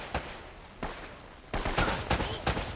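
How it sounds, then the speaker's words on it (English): Bursts of enemy gunfire in Uncharted: Drake's Fortune, several separate sharp volleys, first two spaced apart, then a denser cluster of loud shots close together near the end. "Why are these guys shooting at me anyway?"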